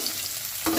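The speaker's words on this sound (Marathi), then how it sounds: "कांदा पण लाल होईपर्यंत भाजून घ्यावा।" Onion fries in a pan for a Marathi brinjal curry, a steady close sizzle with a brief stir near the end.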